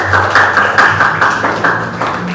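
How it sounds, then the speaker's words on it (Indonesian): A classroom of students claps for the last group to present, a short burst of brisk, fairly loud hand claps with a few uneven pulses fading slightly toward the end. "tepuk tangan untuk kelompok terakhir"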